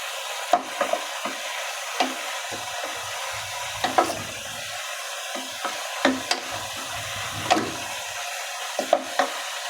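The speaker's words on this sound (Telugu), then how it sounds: "దీన్ని మళ్ళీ కరగదీసి ఇలా వేడి చేసి" Ghee is remelted and heated in a pan, giving a faint steady sizzle broken by repeated clinks and scrapes of a spoon stirring against the metal.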